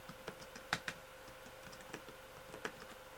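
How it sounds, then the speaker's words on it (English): Typing on an iPad Pro keyboard produces faint, close, irregular key clicks with a few sharper taps, and no voices. "I raise the volume so you can hear the typing sound"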